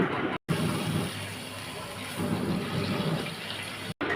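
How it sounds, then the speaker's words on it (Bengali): Broth is poured into a fish chorchori curry simmering in a pan, a steady close-up watery pour broken by two short gaps. "এ পর্যায়ে পরিমাণ মতো একটু ঝোল দিয়ে দেব, দিয়ে একটু নেড়ে নেব।"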